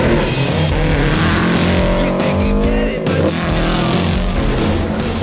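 An off-road rally rig drives hard. Its loud engine roars close up and climbs through rising revs, with a clear drop near the middle as a gear shift comes in, then it pulls again.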